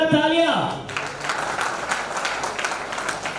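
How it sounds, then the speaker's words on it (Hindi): Audience applause at a Mumbai organisational event; a voice ends in the first second, then loud, steady clapping from a crowd fills the rest of the clip. "एक बार जोरदार तालियां हमारी महिला पदाधिकारियों"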